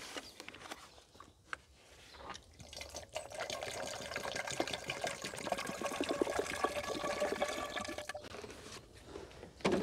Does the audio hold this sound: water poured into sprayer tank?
yes